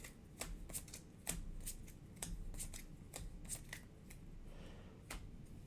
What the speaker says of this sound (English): Discard cards until an enemy is discarded.